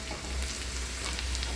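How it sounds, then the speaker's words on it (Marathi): Onion and red chili masala roasting on a hot tawa for an egg curry, giving a steady close sizzling and frying hiss with faint stirring scrapes, no voices. "कांदा पूर्ण भाजून घ्यायचा।"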